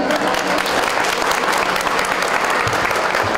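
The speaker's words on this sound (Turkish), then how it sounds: "Hadi alkış." Loud, dense applause from a crowd at a village gathering in Karaköy, Buldan, Denizli, steady and unbroken throughout, with faint cheering mixed in.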